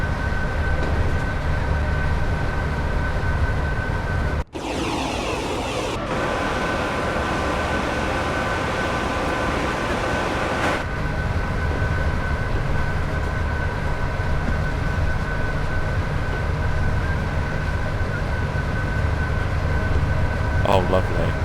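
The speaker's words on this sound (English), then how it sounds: "Or no, a mail train" A mail train rolls past near Shap on the West Coast Main Line, a broad steady rumble and rattle of wagons with a loud gust partway through, while a voice talks over it.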